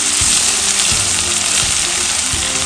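Chopped tomatoes and spices frying and being stirred in a pan for methi malai matar, a loud continuous close sizzle with soft rhythmic scraping thumps of the spoon.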